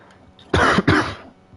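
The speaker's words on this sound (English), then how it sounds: "Again, I apologize for the coughing." A person coughs twice in quick succession, two loud, harsh bursts close to the microphone with a brief gap between them, then quiet.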